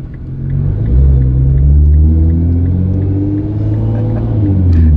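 A 750hp Nissan GTR's engine rumbling and revving while driving, a deep loud drone swelling up and then holding steady as if heard from inside the car, with no voices.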